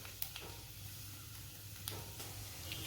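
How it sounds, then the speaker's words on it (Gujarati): Garlic sizzles softly in hot oil for a hot and sour soup, a faint steady hiss with a few light clicks under a low hum. "લસણ મરચાં થોડા સાંતળવા દઈએ"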